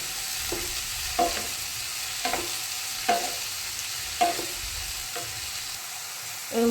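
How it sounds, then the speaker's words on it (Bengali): Chopped brinjal frying in a pan is stirred in regular scraping strokes, roughly one per second, each a short clatter over a soft continuous sizzle, with no voices. "একটু নেড়ে দেবো"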